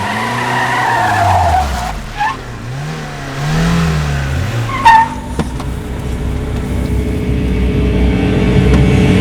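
A car speeds past with a revving engine and squealing, skidding tyres as it brakes hard to a stop, loud and close, then idles with a steady low rumble.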